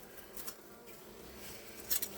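Bees buzz at a beehive in spring, a faint, steady insect hum with a few brief louder flyby swells close to the hive.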